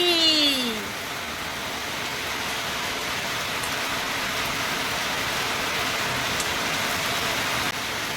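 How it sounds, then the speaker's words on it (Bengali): Steady rain falls outdoors as an even, dense hiss that holds unbroken throughout, with a faint tonal sweep right at the start. "দেখো বৃষ্টি নেমে গেছে"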